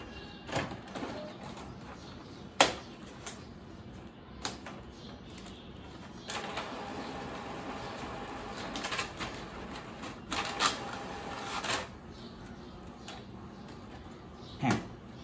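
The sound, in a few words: home printer printing a page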